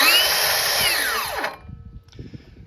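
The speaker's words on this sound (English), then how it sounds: "as you can see, it has a soft start and an electronic brake." Bosch Profactor GCM18V-07SN cordless 7 1/4-inch miter saw whirs at high pitch for about a second and a half, then the electronic brake pulls the motor down in a falling whine to a stop, leaving quiet shop noise.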